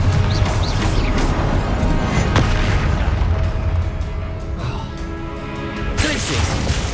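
Confringo fire spell explosions in Hogwarts Legacy, loud continuous booming and crashing bursts with a game soundtrack and effects layered on, dense and near throughout.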